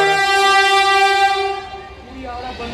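The Puri Howrah Vande Bharat express sounds a loud, sustained horn blast close by as it passes, and the tone fades and shifts toward the end.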